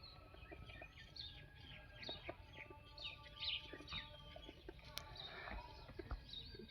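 Scattered bird chirps and calls over a low rumbling background, with a rooster-like call among them, distant and faint.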